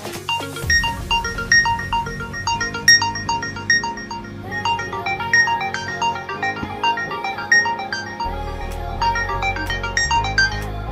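A smartphone set to vibrate plays its ringtone after being triggered remotely to locate it, a bright, continuous melodic tune that loops steadily and loudly for several seconds.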